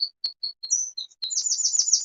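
Birds in a quiet, deserted park give clear, high chirps: a few separate tweets at first, then a rapid run of trilling calls, close and loud with no voices.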